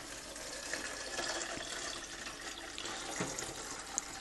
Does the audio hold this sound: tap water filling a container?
yes